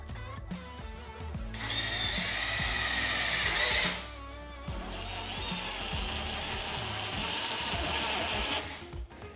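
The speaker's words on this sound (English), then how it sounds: "It's time to screw them together with those self-tapping screws" Power drill driving self-tapping screws into the frame of 4-tier swim spa steps, with two loud sustained whirring bursts of several seconds each and a short pause between them.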